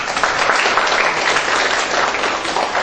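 Dense, steady applause from an audience greeting a debate judge being introduced, a continuous wash of many hands clapping at once, loud and close, with no voices over it for the short stretch.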